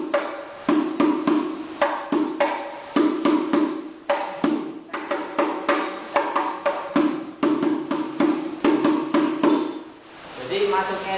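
Hadroh frame drum strokes in a quick rhythmic pattern of sharp slaps and deeper hits, fairly close and clear, ending on a bass dung before a short buzzing tail.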